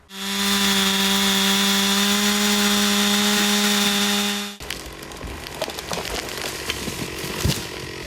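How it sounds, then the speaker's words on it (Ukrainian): At a lumberjack competition, a saw whines loud and steady for several seconds while felling a tree, then cuts out, leaving crackling, rustling outdoor noise. "Вправні руки вальників лісу працювали з пилкою настільки майстерно"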